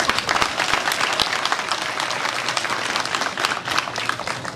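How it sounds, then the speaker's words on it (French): A crowd at a school inauguration during a prefect's tour in Haut Nkam, Cameroon, applauds the mayor, with dense, steady clapping that fills the whole stretch and includes a few sharper individual claps. "Applaudissons pour le maire."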